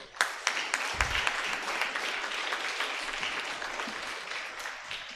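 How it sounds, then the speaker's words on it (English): Applause erupts from an audience at an award function, a few sharp early claps swelling into a full, steady round that eases slightly near the end, with a brief low thump early on. "I think it deserves a round of applause."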